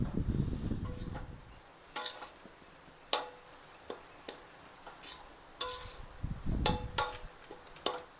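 Egg fried rice being mixed in a pan, with a series of sharp spatula clicks and taps against the metal spaced irregularly over a soft sizzling background, no talk.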